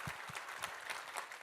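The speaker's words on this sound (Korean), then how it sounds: "우리 하나님께 감사와 영광의 박수 올려드리겠습니다" Church congregation clapping in thanksgiving during a worship service, a dense, steady patter of many hands, moderately distant and fairly quiet, continuing throughout.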